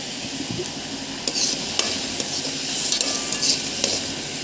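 Pirandai chutney with a single tomato and salt sautéing in a pan, a steady soft sizzle with a few brief clinks of a stirring spoon against the metal, close and continuous with no talk.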